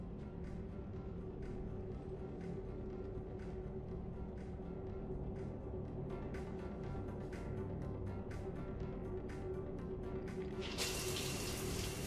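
Shower water runs steadily in a bathroom in the Mass Effect 3 video game, a constant moderate hiss with faint background tones and a brief brighter burst near the end.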